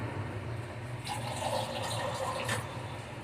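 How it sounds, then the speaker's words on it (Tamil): Water is poured into a pan of cooking onion masala with gram flour in two short splashy bursts over a low background hum. "இன்னும் கொஞ்சம் தண்ணி கலந்துக்கிறேன்"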